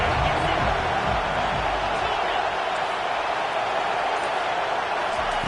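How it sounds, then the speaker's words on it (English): Stadium crowd at a college football game roars steadily on a third-down defensive stand, a dense sustained wall of cheering and noise throughout. "Decibels rising as the crowd gets behind this defense on 3rd down."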